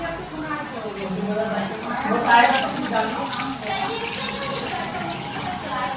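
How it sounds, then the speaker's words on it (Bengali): A little water splashes from a vessel onto meat cooking in a pot, a steady close trickling pour with a brief louder gush, while someone talks over it. "ঠিক আছে, অল্প একটু দিলাম পানি"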